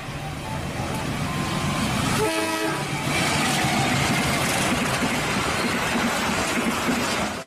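A toy train gives off a continuous, noisy mechanical rumble with a short horn-like toot near the middle. It is fairly close and steady throughout.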